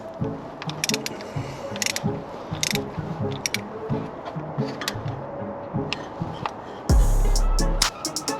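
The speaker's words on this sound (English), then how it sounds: "start off cracking these bolts off" A ratchet wrench loosens 5 mm bolts on a Mercedes W124 fitted with a V8, with repeated quick clicking pawl bursts at close range, irregular bits of handling noise, and a short low rumble near the end.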